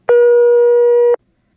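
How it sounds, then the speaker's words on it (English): A ringback tone from another 1970s telephone exchange heard on a Greenville, North Carolina coin phone: a single loud, harmonically rich hum held for about a second before cutting off into silence. "the only difference between ringtones from one exchange to another is that one would sound like"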